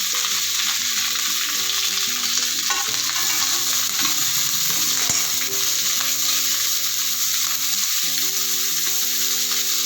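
Onions and chickpeas fry in a pan for a Kabul kadle usli dish, producing a loud, steady sizzle with faint stirring scrapes and no talk.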